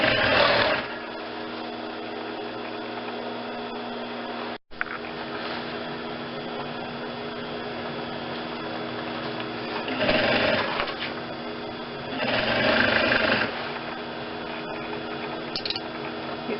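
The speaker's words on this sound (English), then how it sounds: "The machine has a hard time pulling it through, so you may need to help it a little." A sewing machine stitching a collar onto a foam vest with a long stitch, running in a steady close whir that pauses briefly midway and then surges louder in short bursts.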